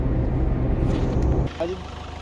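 A warm Ford Figo engine, one with knocking and an oil leak, starts up close by with a loud rough burst that drops after about a second and a half into a lower, steadier run.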